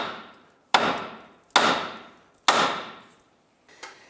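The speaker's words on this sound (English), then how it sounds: "We're now going to use a hammer and strike the knuckle itself to pop that ball joint out." A hammer strikes the steering knuckle of a 2011-2019 Ford Fiesta to pop the outer tie rod ball joint free, three hard metallic blows at a steady pace plus a lighter tap, close and ringing.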